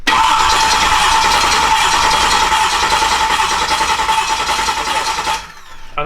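Ford F150 prerunner engine firing up for the first time after sitting dry, a loud dense roar that holds steady for several seconds, then drops off briefly and catches again at the end.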